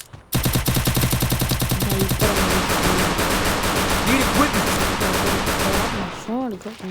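Rapid gunfire in a shooter video game, a fast, steady rhythm of loud repeated shots, followed by a dense stretch of combat noise that cuts off near the end.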